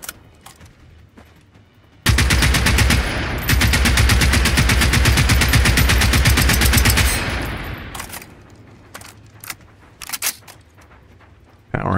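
Sustained enemy gunfire in the video game Generation Zero, a loud dense automatic burst lasting several seconds with scattered single shots and clatter before and after, heard without talk.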